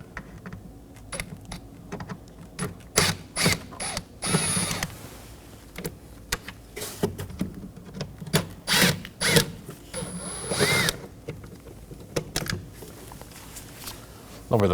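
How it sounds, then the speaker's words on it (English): Short bursts of a power driver with a T25 bit backing out the two screws that hold the brake fluid reservoir on the cowl of a 2014-2023 Ford Transit Connect 2.5L, with clicks and handling noises between the whirs. "Remove these with a T25 bit."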